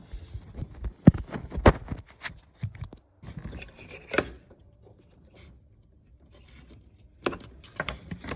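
Plastic clicks and scraping as a power chip connector is pushed onto the fuel rail of a Ford Ranger, a few sharp close snaps early on with quieter fumbling and a couple of clicks near the end.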